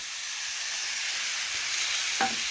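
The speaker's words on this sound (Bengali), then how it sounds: "এখন দিচ্ছি জিরে ও সরষে বাটা" Eggplant fries in a pan with a steady, moderately loud sizzle and hiss after cumin and mustard paste has gone in. A brief clink sounds near the end.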